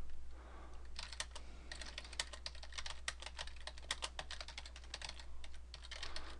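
Steady keystrokes on a computer keyboard while entering commands in the Juniper Junos command line, a quick irregular run of close, crisp key clicks over a low constant hum.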